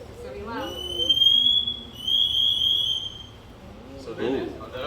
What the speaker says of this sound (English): we've also got an alarm here, so if the firefighter's ever in trouble, you can just press this button here. It's gonna be loud.